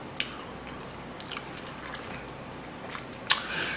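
A few faint, crisp bites into a BBQ golden fried chicken drumstick, eaten plain without sauce: one short crunch near the start and another sharper one near the end, with quiet close-up mouth sounds between.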